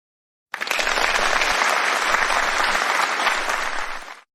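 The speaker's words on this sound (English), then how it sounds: "Let's give her a round of applause for her outstanding performance." A crowd applauds in a steady round of clapping that starts abruptly after a brief silence, holds at an even volume for several seconds, then fades out.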